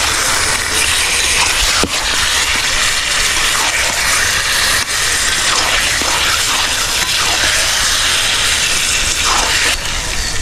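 Chicken pieces being stir-fried with spices in a pan for a Bengali-style chicken korma, a loud continuous sizzle and hiss with occasional scraping stirs, close and steady throughout.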